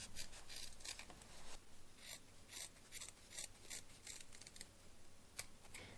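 Scissors snip the corners of sewn fabric in quick, light, repeated cuts, close but faint, with soft rustling of the cloth and no talking.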